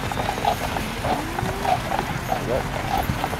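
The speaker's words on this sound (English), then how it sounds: "Here comes a big carriage. Two horses." A carriage pulled by two horses passes in a winter holiday park, with hooves clip-clopping in a steady rhythm close by while people talk and call out greetings over it.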